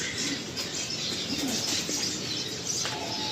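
Pigeons in a loft give soft cooing calls amid a brief flutter of wings, set against a steady broadband background hiss.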